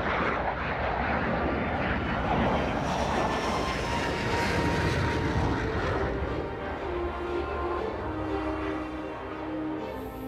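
Combat drone flying in formation alongside a Rafale fighter and a Falcon 7X business jet, heard as a loud, steady jet engine roar with a broad rumbling wash, held near and constant throughout.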